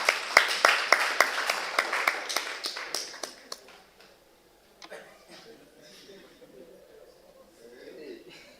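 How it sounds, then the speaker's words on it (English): Clapping from a small audience at a student guild leaders' swearing-in and handover ceremony, a few seconds of sparse, fairly close claps that thin out and fade into low room noise. "Let's kindly clap for them."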